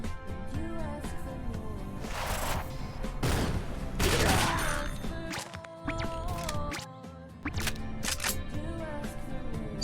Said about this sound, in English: Need to use some pistol now